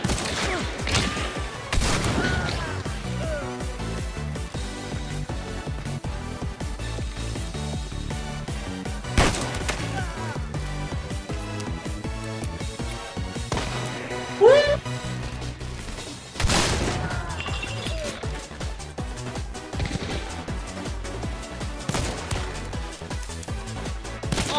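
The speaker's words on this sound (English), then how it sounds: "Stop shooting me!" Gunfire in the Hunt: Showdown game: repeated sharp shots and volleys crack out at irregular intervals over a continuous busy battle backdrop, some shots near and loud, with no talking.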